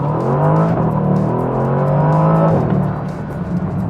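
A Bentley's engine in sport mode revs loudly and close, a sustained rising drone that drops sharply midway and then settles into a lower rumble, with no talk.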